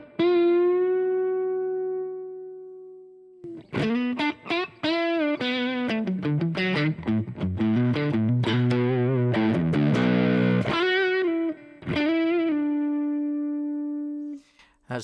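Electric guitar driven through the overdrive stomp box of a Laney amp plugin, with its volume and drive set: sustained held notes bracket a busy run of distorted single notes and chords, loud and close, with no talking.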